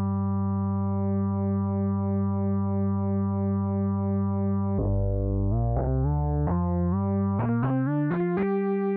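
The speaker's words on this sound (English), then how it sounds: "animate the oscillator, which uses a dedicated LFO to slightly detune the main sine wave." A sustained sine-wave synth oscillator tone, slowly detuned by an LFO into a wavering sound, then shifting to a series of stepped, plucked-sounding notes rising in pitch, loud and close.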